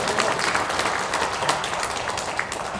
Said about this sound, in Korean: 이 시간 하나님께 감사의 박수, 영광의 박수 올려드리겠습니다